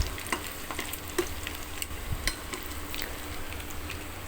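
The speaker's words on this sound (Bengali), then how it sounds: "এখন এই পেঁয়াজ আর রসুন ও শুকনা মরিচ এই বাটাটা সাইডে তেলের উপরে দিয়ে দিব।" Onion, garlic and dried chili paste fries in hot oil for a dry fish and jackfruit seed curry, giving a steady close sizzle with scattered utensil clinks and scrapes.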